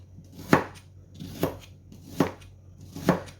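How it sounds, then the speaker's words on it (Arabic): Knife chopping through an onion on a board in a home kitchen, four steady, evenly spaced thuds close up and fairly quiet, with no talking. "هنقطع البصل كده مع بعض"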